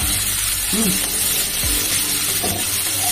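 Chopped onion and green chilli fry in hot oil for an egg curry with ridge gourd, giving a loud, steady sizzle that fills the whole moment, with brief vocal sounds over it.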